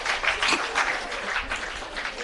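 Seminar audience applauding steadily for a volunteer who stood up, a dense clatter of many hands close by with a faint voice in the background.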